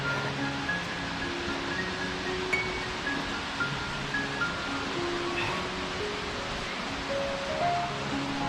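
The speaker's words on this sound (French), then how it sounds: "une impressionnante chute d'eau de 60 mètres" The Grand Saut, a 60-metre waterfall of the Cascades du Hérisson in autumn: a steady, dense roar of falling water with no breaks, loud and close, with faint tonal background sounds mixed in.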